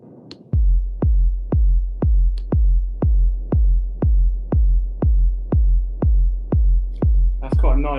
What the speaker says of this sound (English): That's quite a nice fat techno kick drum.